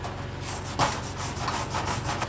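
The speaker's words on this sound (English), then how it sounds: "now let's go ahead and brush this down." A wire brush scrubs briskly across a flux-core weld on metal in quick rasping strokes, close up, with no voices.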